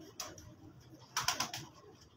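A rare pigeon gives a few soft coos and short calls at low level, separated by brief quiet gaps with light clicks.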